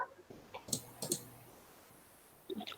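Several keys are pressed on an old scientific calculator, close and fairly faint: a few sharp clicks in quick pairs, a pause, then another short burst of clicks.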